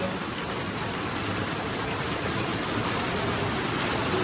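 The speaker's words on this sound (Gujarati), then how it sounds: "અહીંયા જો ધોધમાર વરસાદ શરૂ થયો છે અત્યારે" A heavy downpour of rain makes a steady, dense, even roar throughout, with no breaks or other clear sounds.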